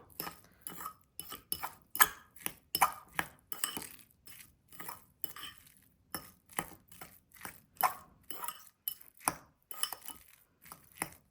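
A spoon mixes avocado chickpea sandwich filling in a bowl, giving a steady series of sharp clinks and soft mashing scrapes in an irregular rhythm, close up and with no talking.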